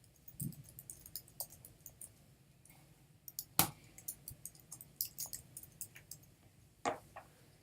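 Quiet clicks and taps on a computer keyboard and mouse while filling in a payment request form, sparse and irregular with a few sharper louder clicks standing out from the soft patter.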